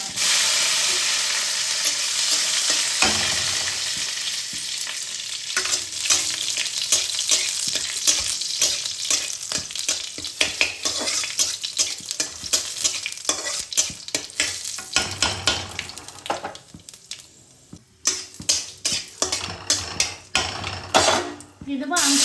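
Panch phoron and dried red chillies sizzling in hot oil for a tangy fish-roe dish, a loud continuous sizzle with frequent spatula scrapes and clatter against the pan, growing more broken toward the end.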